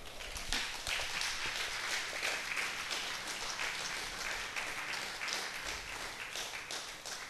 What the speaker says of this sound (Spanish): Prendan un aplauso al Señor.